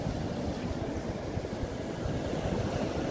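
Sea waves wash onto the beach on the island of Sylt in the evening, a steady broad rushing surf with wind noise on the microphone, continuous and fairly loud with no talk.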